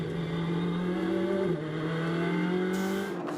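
A Ferrari GT race car engine at Las Vegas Motor Speedway is heard onboard, a loud, steady high-revving drone with a brief pitch dip as it shifts and climbs again, continuous and close throughout.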